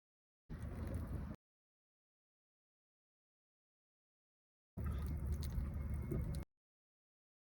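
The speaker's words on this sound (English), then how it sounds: "Look at that, the water's leaving." Water gushes out of clogged HVAC equipment being washed, in two short bursts of splashing, gurgling flow separated by silence, fairly quiet and close.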